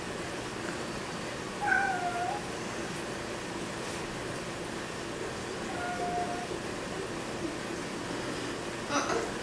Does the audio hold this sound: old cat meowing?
yes